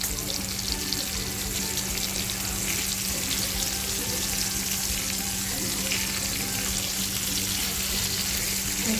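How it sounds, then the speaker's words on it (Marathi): Surmai fish pieces and head half-frying in a pan, a loud, dense, continuous sizzle heard up close with little variation. "आपल्याला ही मच्छी आहे ना अर्धवट फ्राय करून घ्यायची आहे"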